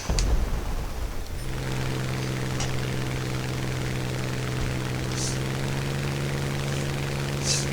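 Propeller aircraft engine drone from the War Thunder video game, a steady low hum with tonal bands holding throughout after a brief opening burst, loud and continuous with faint higher whooshes at moments, no speech.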